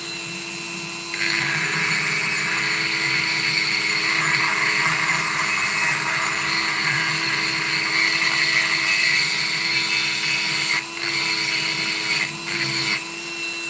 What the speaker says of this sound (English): I'm trying not to leave a footprint on the sidewall here by the Dremel